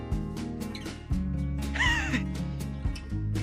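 A bird gives a harsh, wavering caw close by over steady low mechanical rumble and clatter, with a few short knocks around it.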